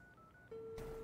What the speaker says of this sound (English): Reeves makes a phone call and nobody else gets a phone call